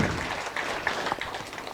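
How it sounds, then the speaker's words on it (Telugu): An audience at a spiritual youth talk claps in a short burst of dense, close applause that fills the whole moment without any talking. "ఒకసారి గట్టిగా చప్పట్లు కొడదాం"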